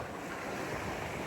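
Sea wind roars without a break across a short stretch, with heavy, broadband rushing and buffeting against the microphone and no voices.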